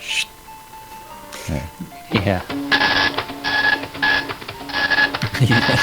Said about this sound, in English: Dot matrix printer.